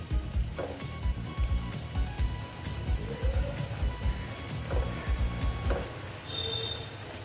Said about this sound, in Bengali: দিয়ে আমি এটা ভালো মতো নেড়ে চেড়ে নিচ্ছি, এটার সঙ্গে মিক্সড করে নিচ্ছি